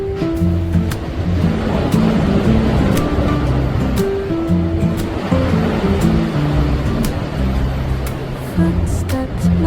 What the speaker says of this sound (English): waves kiss the shore in a gentle dance in this winter sea